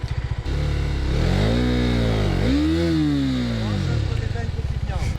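A KTM Duke 390 motorcycle engine revs hard during a wheelie attempt, pitch climbing, dipping and surging again in a loud, close, sustained whine, with brief idle putter at the start and end.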